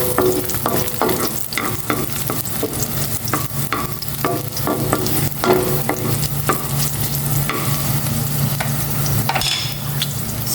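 Garlic sautés in hot oil in a home kitchen after tilapia has been fried, with a continuous crackling sizzle punctuated by frequent sharp scrapes and stirs of a utensil against the pan.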